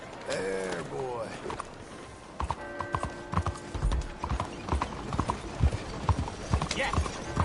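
Horse hooves clip-clop at a steady trot in Red Dead Redemption 2, joined by a brief whinny and clattering tack; a voice speaks at times.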